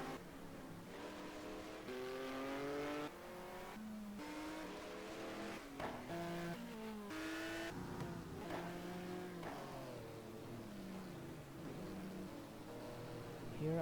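Race cars in a sim racing game run a wet track at Brno, several engines revving and shifting gear up and down close by, with tire noise and a steady roar under it all.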